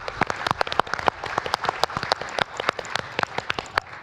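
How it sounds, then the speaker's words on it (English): Audience applause at an international conference hall, a steady dense patter of many hands clapping, close and lively, with no voices over it. "Let's give him a round of applause."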